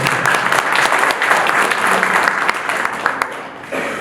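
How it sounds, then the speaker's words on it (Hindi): An audience at a cable operators' association swearing-in ceremony in Udaipur claps loudly in welcome, a dense sustained burst of applause that thins slightly toward the end. "अगर मैं जोरदार तालियों के साथ इनका स्वागत करूँ।"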